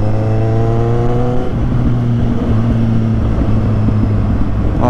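Triumph Street Triple R motorcycle engine heard up close, a loud steady exhaust drone with a clear tonal hum that shifts pitch partway through as the revs change, continuous and without talk.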